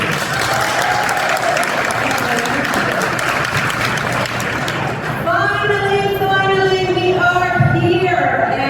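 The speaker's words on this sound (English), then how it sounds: "give a round of applause" An audience at the Carnival Splendor's departure ceremony in Seattle applauds loudly and continuously, the clapping dense and sustained, then giving way to a voice speaking over a public address system.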